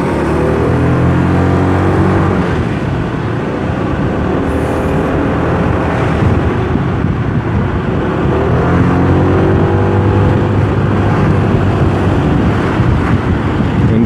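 A SYM MaxSym 400i scooter accelerates on a ride through traffic in Bali, its engine note rising and falling in smooth revving sweeps under steady wind rush, loud and close throughout.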